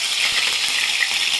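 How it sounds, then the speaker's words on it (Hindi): Mustard seeds, cumin and green chili hit hot oil in a pan, a loud, close, dense sizzle that hisses continuously through the short moment with no talking. "अब मैं इसमें डालूंगी राई और जीरा।"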